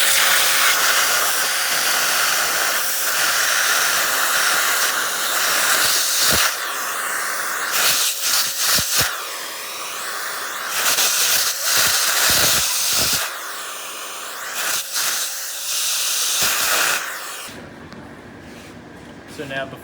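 A vacuum cleaner sucks leftover coffee grounds out of the wheel of a coffee grinder, a loud, steady hissing roar that dips and surges several times before cutting off near the end.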